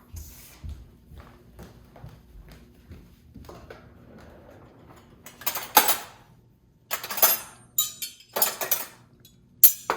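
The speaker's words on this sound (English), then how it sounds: "I set the knife on the opposite side of the spoon." Metal knives clink and tap against plates and each other as a fancy table is set, scattered soft touches early, then several sharp, close clatters in quick bursts near the end.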